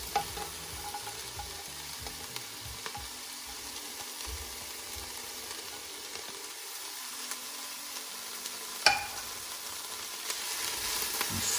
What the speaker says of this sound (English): And stir that around, mix it all in.